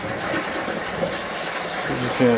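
A toilet flushes and water rushes away down the drain in a steady close gush, with a voice talking over it.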